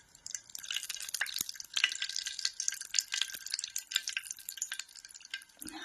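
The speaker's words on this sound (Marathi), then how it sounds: "हे टाकले रिफाईन तेल रिफाईंड तेल" Refined oil crackling and sizzling in a hot pan while cooking vegetable parathas, a steady close hiss with scattered sharp pops and spits.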